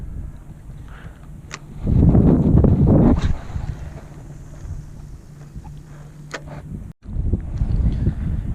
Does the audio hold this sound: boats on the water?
yes